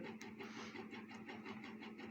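Motor driven through skipped steps by an Omron photoemitter controller hums with a regular clicking pulse, about five beats a second, steady and close with nothing else heard.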